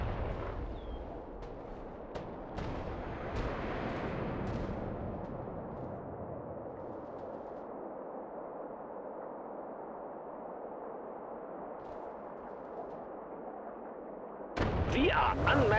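Artillery fires in the World War Armies video game as a heavy boom that rolls into a long fading rumble, followed near the end by a burst of louder battle noise.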